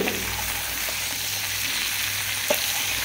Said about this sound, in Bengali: ঝিঙেটা ঢেলে দেওয়ার পরে ঝিঙেটা একটু নেড়ে চেড়ে নেব হালকা করে প্রথমে